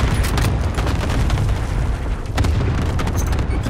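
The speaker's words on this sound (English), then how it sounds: "Allied cluster strike inbound." Heavy cluster strike explosions in a video game, a dense run of deep booms and blasts rumbling almost continuously for the whole stretch, loud and close with no talking.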